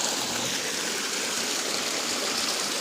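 Water flowing in a stream through a deep forest near a company area, a loud, even, continuous rushing and babbling heard close up, with no talk.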